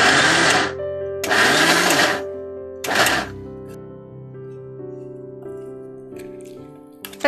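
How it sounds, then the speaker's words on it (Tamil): A mixer grinder grinding soaked green gram for cutlets in a home kitchen: three short, loud whirring bursts separated by pauses, the last one briefest, followed by quiet background music. "இதை வந்து மிக்சியில் போட்டு கிரைண்ட் பண்ணிடலாம்"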